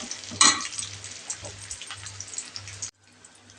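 Ingredients for pongal frying in hot oil until reddened, a steady close crackling sizzle with bubbling pops, a sharp burst near the start, cutting off abruptly near the end.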